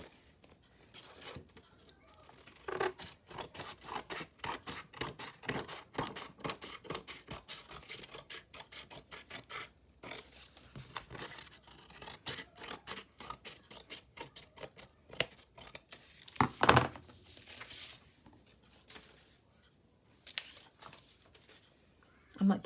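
Scissors snip steadily around the edge of paper while making a doily keeper, a faint, close run of short cuts with a few louder rustles.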